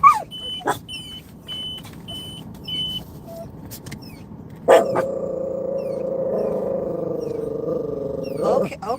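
A dog growls and rumbles in a long, steady, close-up snarl, preceded by a few short squeaky toy-like beeps and scattered noises, with a brief sharp sound at the start.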